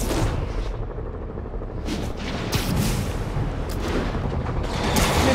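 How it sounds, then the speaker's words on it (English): Gunfire in Marvel's Spider-Man Remastered rattles on continuously as a dense, loud mix of shots and bursts. Sharp cracks stand out at intervals throughout. "We're taking fire."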